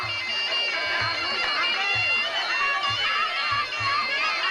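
A crowd cheering and shouting at a children's boxing match, continuous loud massed voices with children's shouts rising and falling, up close and filling the space.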